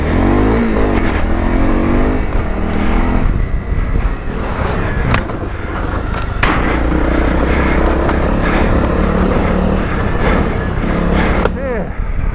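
A Honda CRF250 Rally motorcycle rides off road on new tyres, its engine droning loudly and steadily with rising and falling revs throughout, and a voice speaking over it.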